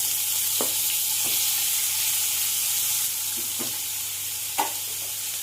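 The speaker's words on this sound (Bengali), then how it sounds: "এবার আমি মাছগুলো একে একে সব তেলে দিয়ে দিই" Prawns sizzle steadily in hot oil, a constant frying hiss with a few brief crackling pops as they go into the pan; no voices.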